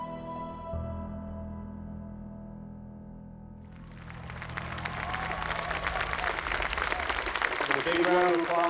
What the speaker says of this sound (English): Big round of applause, obviously, the guys, BioWare, Raphael, amazing job of the Mass Effect franchise.